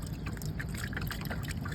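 Water splashes and trickles over baby tortoises as they are soaked and washed, a steady close wet patter throughout with no talk.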